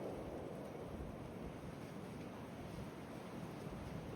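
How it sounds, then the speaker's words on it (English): Strong wind blows outdoors at a campsite during a wind storm, a steady, dense rushing roar that buffets the microphone without letting up, with no voices. "as I just showed you guys how windy it is"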